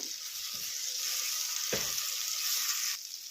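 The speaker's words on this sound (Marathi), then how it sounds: "तर बघा मसाला परतून झालेला आहे" Ground coriander, onion-garlic masala and red chilli powder sizzle steadily while being sautéed in a pan for idli sambar, a continuous close hiss with a few brief stirring scrapes and no talk.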